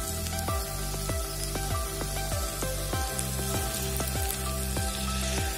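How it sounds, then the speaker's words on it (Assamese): Curry leaves fry in hot oil while cooking an Assamese fish curry, a close, steady sizzle broken by a rhythmic series of sharp pops and crackles. "নৰসিংহখিনি দি অলপ ভাজিম।"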